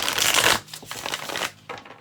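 Tarot and oracle cards being shuffled by hand: two bursts of crisp riffling and card slapping, close up, with a brief pause between them.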